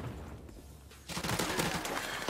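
Automatic gunfire rattles in Modern Warfare, a quiet stretch followed by a sudden dense burst of rapid shots that continues loudly to the end.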